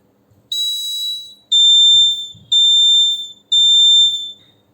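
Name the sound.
Arduino buzzer module beeping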